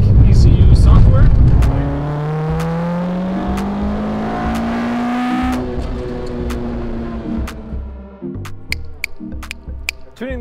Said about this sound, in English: The engine is running really smooth now, and I think I might actually have a good shot at possibly beating the tuner